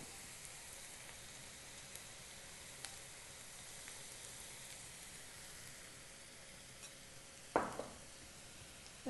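Onions fry in a pan for mutton and drumstick curry, a soft, even sizzle with faint crackles and a sharper clatter of stirring near the end, no voices.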